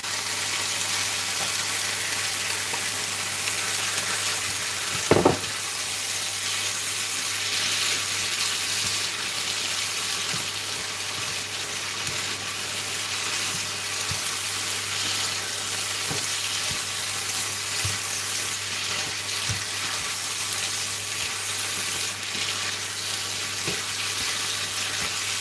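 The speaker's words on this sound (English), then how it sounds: "So let's cook the vegetables." Vegetables fry in a pan for a meat pie filling, a continuous even sizzle close up with a single sharp clatter early on and faint occasional stirring knocks.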